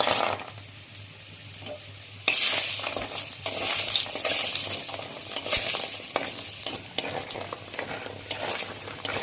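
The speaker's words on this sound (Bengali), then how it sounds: "বড়িগুলো ভেজে নেবো" Lentil dumplings (bori) fry in hot mustard oil in a kadai, breaking into a sudden bright sizzle that holds steady, with occasional stirring clatter and no voice.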